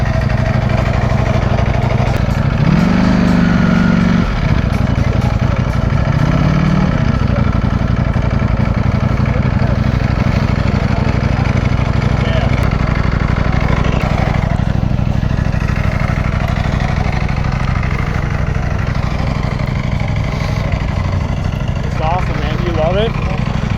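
Ducati Panigale V4R motorcycle on its stock exhaust, idling with a loud, steady engine drone throughout, parked at a Lamborghini meet while people talk nearby.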